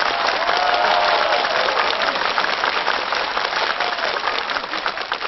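A studio audience at a comedy sketch breaks into sustained, loud applause to welcome a guest, a broad, even wash of clapping with a light cheer mixed in, carrying on unbroken throughout.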